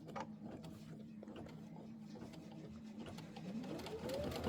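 A sewing machine runs steadily while quilting, a low continuous mechanical whir with faint ticking, moderately quiet and alone, rising slightly toward the end.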